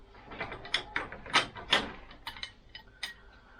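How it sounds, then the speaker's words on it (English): A laser level is screwed onto a Bosch BT 350 telescopic pole, giving a series of small plastic-and-metal clicks, scrapes and ratcheting ticks up close, irregular and fairly quiet, with no voices. "To fit the laser onto the pole, you just line up this thread with that one."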